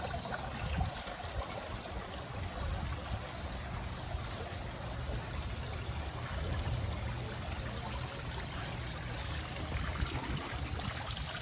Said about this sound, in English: I like this fountain. I just love all the water fountains.